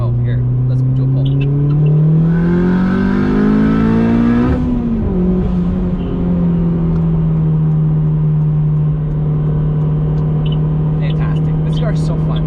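A turbocharged 8th-generation Honda Civic Si with a K20 engine and PRL turbo kit accelerates hard, its engine note rising steadily through the rev range before a shift. The drone then settles lower as it keeps pulling, with turbo whine and a voice near the end.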